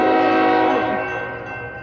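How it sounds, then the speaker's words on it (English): A BNSF freight locomotive horn, at the head of an empty intermodal train led by units 8211 and 6229, blasts loud and close as a sustained, multi-tone chord that fades slightly toward the end. "Oh, that horn sounds so nice."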